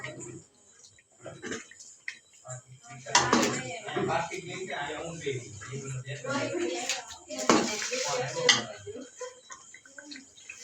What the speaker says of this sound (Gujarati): હવે ગ્રેવી સાથે બટેટાને મિક્સ કરી દઈશું